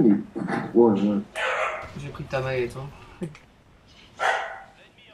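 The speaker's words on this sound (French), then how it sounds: "Désolé pour le bruit des chiens" Dogs bark and yip several times in the background while French speakers chat over them, the barks partly masked by the talking.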